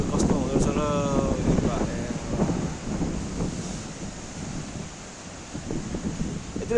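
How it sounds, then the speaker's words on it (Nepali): Fierce seaside wind at Paphos, Cyprus, gusts hard into the microphone in a continuous loud rush. A faint voice-like tone sounds briefly near the start, and the wind surges again at the close. "हावा त हेरि नसक्ने हुन्छ हौ यहाँ"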